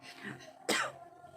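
A single sharp cough bursts out up close after a moment of quiet, husky breathing, then fades quickly.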